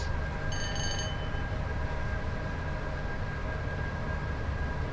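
A Class 87 electric locomotive in Train Sim World 5 runs on the line from Carlisle to Preston, making a steady rumbling drone with a sustained electric whine and a brief high tonal chime near the start.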